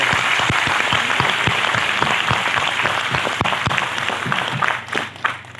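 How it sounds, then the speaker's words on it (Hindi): Women in a leadership training audience are applauded, a steady clatter of hand claps filling the room at close range before thinning into a few scattered claps near the end. "यहां पर जितनी लेडीज हैं एक बार हम उनके लिए तालियां बजा सकते हैं।"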